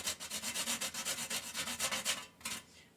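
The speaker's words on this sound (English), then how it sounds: "And I'm just going to use a box grater." Something is grated quickly on a box grater for eggnog cookies, making a close, rapid series of short scraping strokes in an even rhythm.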